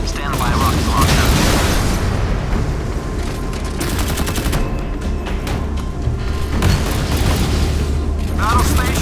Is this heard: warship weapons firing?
yes